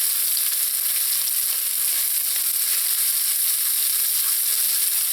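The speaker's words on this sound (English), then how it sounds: "That's why I had a little extra oil in this dish, because we need that for the onions to fry up." Onions sizzling loudly in extra oil along with toasted methi seeds for a Sri Lankan chicken curry, a dense, constant hiss of frying, close and unbroken, with no voices.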